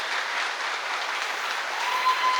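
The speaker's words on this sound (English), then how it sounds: "give them a special round of applause" Steady applause from an audience at a middle school ribbon cutting ceremony, honoring alumni association members; a dense, even wash of clapping that holds for the whole stretch without pause.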